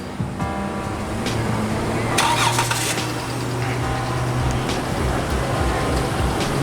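A Nissan 370Z with its VQ engine rumbles and revs nearby at a busy 7-Eleven car meet, the engine note rising briefly in a louder burst amid continuous background crowd and traffic noise.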